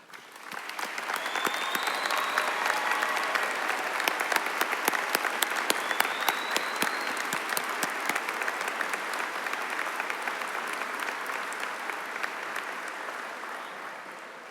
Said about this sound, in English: Join me in applauding them.